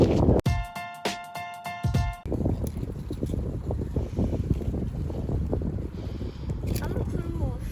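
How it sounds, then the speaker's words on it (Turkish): Gusty wind buffeting the microphone outdoors at a strawberry garden, a low rumbling roar that rises and falls, loud and close; a short burst of tonal sound comes first. "Biraz rüzgarlı."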